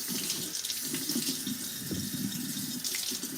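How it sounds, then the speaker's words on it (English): Potatoes rinsed under a running kitchen tap, a steady close hiss of flowing water with small splashing variations as they are turned, no talking. "So we'll wash off our potatoes first."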